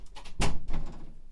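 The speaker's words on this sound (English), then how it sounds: "I'm gonna close the door if you don't mind." A single indoor door swings shut with a firm thud and short rattle near the start of the moment, close to the microphone, with no talk.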